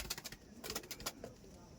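An ice blue patti pigeon coos in soft, rolling pulses, close but faint, under a noisy handling background.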